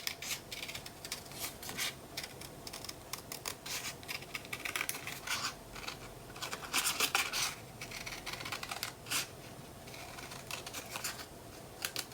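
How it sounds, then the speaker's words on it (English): Scissors cut out traced paper for a Stamperia Princess mini album, making soft, irregular snipping and rustling close by. The sounds are quiet and come in clustered bursts. "I'm just going to trace it and then cut it out."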